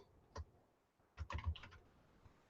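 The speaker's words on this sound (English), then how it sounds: "Xavier, typing it out like me." Typing on a computer keyboard is heard as faint, sparse clusters of key clicks, first a single tap and then a short burst of several quick strokes, over quiet room noise.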